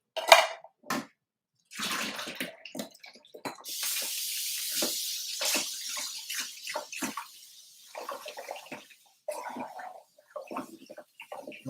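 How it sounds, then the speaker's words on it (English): A can rinsed under a running kitchen tap, water gushing and splashing in bursts that stop and start, with clinks of metal and close, loud spray against the sink. "I'm going to rinse the next can off"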